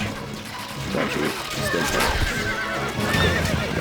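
Horses neigh and whinny in the Stronghold strategy game amid hoof clip-clops and clashing battle noise, a loud, dense mix with whinnies rising over the constant clatter.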